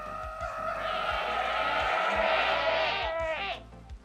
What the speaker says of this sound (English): This is a screaming goat